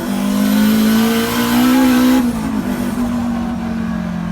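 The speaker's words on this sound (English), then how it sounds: "All four wheels were spinning then." A 500bhp Honda Civic EG with a K20 engine and all-wheel drive launches hard with all four wheels spinning, its loud engine note rising in a strained, sustained roar before easing slightly, close by with no talk.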